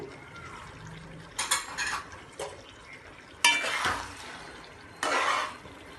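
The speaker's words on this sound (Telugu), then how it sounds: "ఇప్పుడు దగ్గరుండి చక్కగా హైలో పెట్టి వేయించేసుకోండి" Whole spices with coriander powder being fried on high heat in a pan for chicken fry, with a faint sizzle under three or four close, bright scraping bursts of a spoon stirring against the pan.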